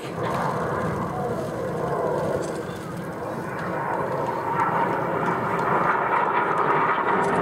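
Jet aircraft roaring overhead during a vertical break manoeuvre at an airshow display, a loud sustained engine rush that swells and fades slightly over several seconds, with crowd or commentary voices faintly underneath.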